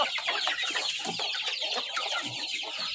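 A flock of hungry chickens at feeding time clucks busily and continuously nearby, many overlapping calls with no talking.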